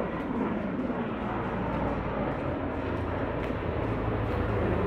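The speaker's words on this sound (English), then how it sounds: "you can hear the helicopters." Helicopters drone overhead in a steady, broad rumbling wash that holds at a constant moderate level throughout, heard from outdoors with no speech over it.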